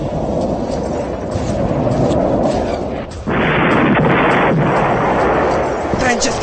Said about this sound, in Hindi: लगातार गोलियां चल रही हैं